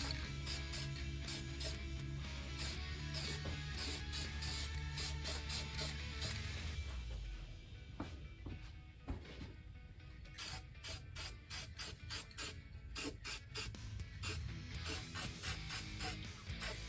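High-heat 1200-degree spray paint applied to the manifold of a 1929 Ford Model A Tudor, heard as a rhythmic, rattling clatter under a steady hiss that stops and restarts in short bursts, close and alone.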